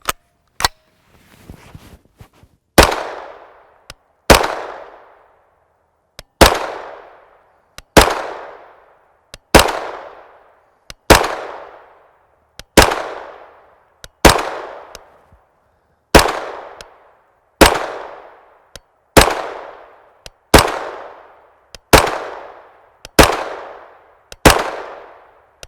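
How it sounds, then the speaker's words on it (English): A CZ Scorpion EVO 3 S1 fitted with an Ergon trigger pack fires slow, evenly spaced single gunshots, roughly one every one to two seconds, each a sharp loud crack with a decaying echo, preceded by a brief rattle. "Now we're going to do some really slow fire."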